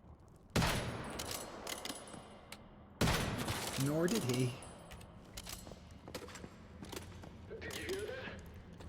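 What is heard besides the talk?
gunfire in the video game Once Human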